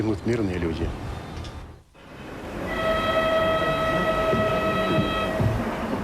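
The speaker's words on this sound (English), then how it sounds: "the Kungayev's train arrives just before dawn" A train rumbles steadily, then a long sustained horn sounds over the rolling noise, fairly close.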